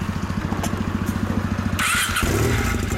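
Kawasaki W series twin-cylinder motorcycle (W800/W650/W400 family) idling with a steady, loud, close thumping pulse, then a louder burst as the engine note rises near the end.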